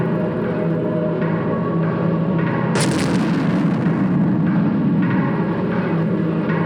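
A grenade blows up in a Puppet Combo horror video game with a sudden sharp blast partway through, set over a constant low rumbling game ambience, loud and heavy.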